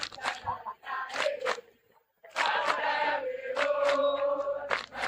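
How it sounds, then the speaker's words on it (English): Lomagundi school boys and girls chanting and cheering from the stands at a first-team rugby match, voices rising together in loud sustained shouts after a brief lull, moderately distant. "The Lomagundi boys and girls surprisingly start to cheer even louder"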